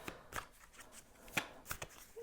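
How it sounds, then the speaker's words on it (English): Tarot cards are shuffled by hand in several quick, soft riffling bursts with short pauses between them, close and quiet, with no talking. "I'm gonna shuffle and see what the cards have to say"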